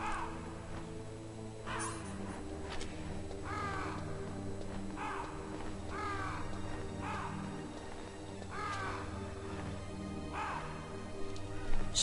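Crows caw repeatedly in the video game Metal Gear Solid, harsh calls spaced every second or so over a steady low ambient game hum.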